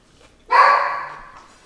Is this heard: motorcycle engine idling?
no